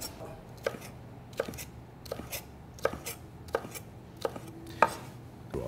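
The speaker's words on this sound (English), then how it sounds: "Cut into strips." A knife slicing a sweet red pepper into strips on a cutting board, six or seven distinct crisp chops spaced about a second apart, close and clear.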